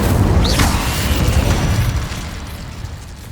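Incendio fire spells burst in Hogwarts Legacy, a loud roaring blast with a rising whoosh early on, then a sustained rumbling roar that eases off after about two seconds.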